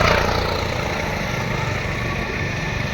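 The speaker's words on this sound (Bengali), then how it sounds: "আমারও রয়েছে টিভিএস রাইডার বাইক 125 সিসি" A TVS Raider 125cc motorcycle engine runs with a steady low rumble, close and continuous, without pauses.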